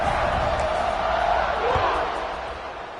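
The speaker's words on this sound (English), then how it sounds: "this crowd is buzzing after that last score" Football stadium crowd buzzing after a score, a dense roaring murmur of many voices that swells briefly before easing off, with a commentator talking over it.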